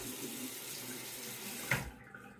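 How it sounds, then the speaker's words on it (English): Tap water runs steadily from a sink faucet to wet a Fatip Grande open-comb safety razor, a close, even hiss that cuts off abruptly near the end. "Let me wet the razor now."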